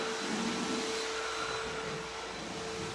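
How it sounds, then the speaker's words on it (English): A vacuum cleaner runs with a continuous loud whine and a steady rushing drone while cleaning up dust from a freshly sanded walnut wood floor. "over there vacuuming it up so we can start coating"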